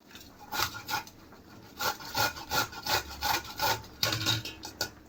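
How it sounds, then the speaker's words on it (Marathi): Beetroot being grated by hand for paratha, a rapid series of rough scraping strokes in quick rhythmic bursts, close and fairly loud with short pauses between runs. "आता याचा आपण किस तयार करूया"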